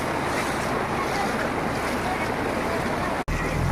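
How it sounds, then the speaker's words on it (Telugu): Floodwater rushes along a city road in heavy flooding, a loud, continuous roaring wash close to the microphone with wind buffeting, broken by a brief dropout near the end. "రోడ్డు మీద ప్రవాహం నీళ్ళు"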